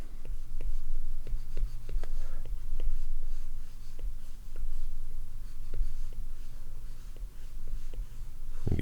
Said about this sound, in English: So I'll start to sketch those in here.